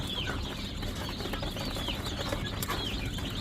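Golden pheasants calling from a home enclosure, repeated short harsh bird calls over a dense, busy background of fowl and other birds, steady and fairly close.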